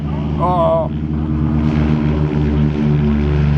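A P-38 propeller aircraft drones past at an air show in Apple Valley, a loud steady engine roar close by, with an announcer talking over it.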